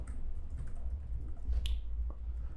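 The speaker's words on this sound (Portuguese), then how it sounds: "Aqui, apertei Enter." Computer keyboard keys tapped in a quick cluster with a single Enter press among them, soft close clicks over a steady low room hum.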